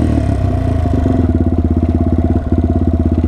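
A motorcycle cruising on back roads on a breezy day makes a loud, close engine rumble with a rapid, even throbbing pulse that holds steady throughout, with no speech.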